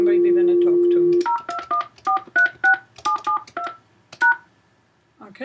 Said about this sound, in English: For that we press on line 2 and enter the number we want to talk to.